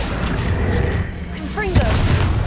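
A Confringo fire spell blasts in Hogwarts Legacy, a dull booming impact with a quick rising whoosh and crackle amid game noise.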